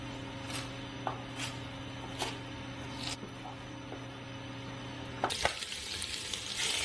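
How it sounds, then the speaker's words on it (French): Pieces of beef browning in hot fat: a few knife-like taps and steady kitchen hum give way to a loud, broad sizzle that rises suddenly near the end and keeps going. "Rissolez vos morceaux de viande dans un corps gras bien chaud"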